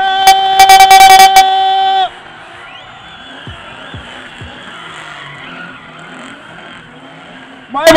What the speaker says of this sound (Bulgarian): А това, уважаеми дами и господа, се казва един истински бърнаут